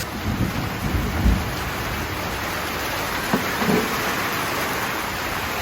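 Steady rain falling outdoors in a household setting, a continuous broadband hiss with a few soft low thumps, moderately loud and unbroken throughout.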